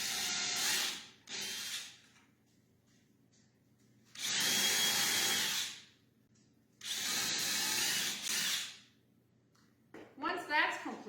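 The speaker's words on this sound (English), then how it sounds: "take your gun and pre-drill your holes" A power drill whirs in three bursts of a second or two each, pre-drilling screw holes, separated by quiet pauses, with a brief mechanical clatter at the end.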